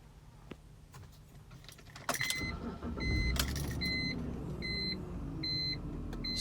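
A 2005 BMW E46 325i starts up from inside the cabin: key rattles, a surge as the engine catches, then a steady idle with repeated chime beeps close by.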